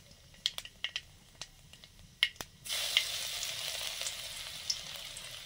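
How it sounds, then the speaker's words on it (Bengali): Gandal leaves go into hot mustard oil in a wok after a series of sharp utensil taps and clicks, then a bright steady sizzle takes over and keeps going. "সর্ষে তেল দিলাম। ওই গাঁদাল পাতাটা একটু কড়াতে নেড়ে নেব।"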